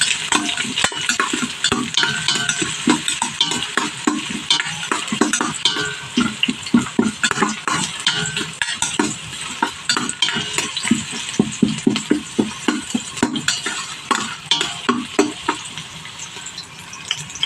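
Onions frying in a pan and being stirred until browned, a steady loud sizzle broken by a rapid series of scraping and clinking stirring strokes throughout, with no voices.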